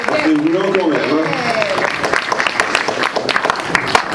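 A crowd at a horror show event in Boulogne claps, starting under a speaking voice and then continuing alone as loud, uneven applause.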